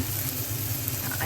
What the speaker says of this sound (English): And now we are cooking our tomato.